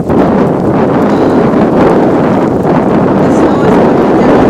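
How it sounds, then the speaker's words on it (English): Strong wind roars without a break during a heavy snowstorm in upper Manhattan, New York City, loudly buffeting the microphone as one dense, continuous rush. "Like the wind is blowing crazy right now."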